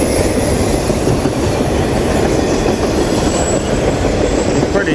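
A short, mostly empty freight train passes at Morton's Gap with its cars bound for Louisville, a loud, steady rumble of rolling wagons up close, with wheel squeal and metallic clatter throughout.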